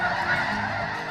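A large congregation of lesser snow geese honks continuously near Delta, Utah, in February. The dense, loud chorus of overlapping calls carries on without pause.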